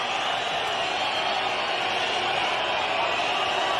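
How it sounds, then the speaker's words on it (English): A fight arena crowd voicing displeasure at a judges' scorecard decision, a dense continuous roar of many voices, loud and steady, with a commentator talking over it. "The crowd doesn't like it."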